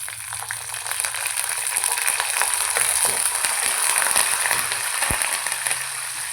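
Curry leaves frying in hot oil with crushed peanuts for upma, giving a steady, close crackling sizzle with scattered sharp pops throughout.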